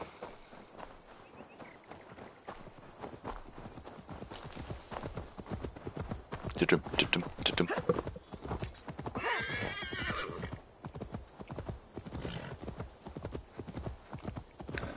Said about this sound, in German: Vier Pferdchen.